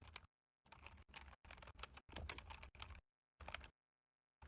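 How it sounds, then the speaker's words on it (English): Typing on a computer keyboard comes in several bursts of rapid, close key clatter separated by brief silent pauses, with no voices. "Nice keyboard you got there, Flame."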